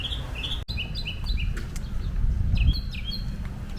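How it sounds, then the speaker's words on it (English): Several birds chirp and tweet in short, high bursts through a garden at the Ringling Museum in Sarasota, Florida, over a steady low outdoor rumble, with one brief dropout. "The birds are chirping."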